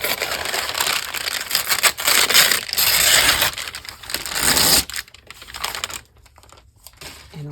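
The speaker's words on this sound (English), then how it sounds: "Sorry, I know this is very crinkly." Thin paper crinkles and crumples close to the microphone in bursts of loud rustling, easing off toward the end with quieter handling sounds; a paper bag journal is being worked on.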